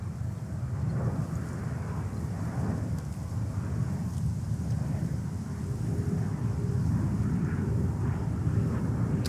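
A Saudia Boeing 777-300 at JFK Airport in New York gives off a steady, moderately distant jet rumble mixed with wind buffeting on the microphone.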